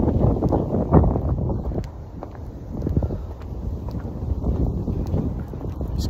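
Cold winter wind in New York buffets the microphone outdoors, low rumbling gusts that swell and ease unevenly, loud and close, with no one speaking.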